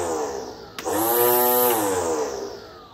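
A Wild Badger Power 20v battery weed trimmer starts with a click and whines up in pitch, holding a loud, steady motor hum nearby before easing slightly.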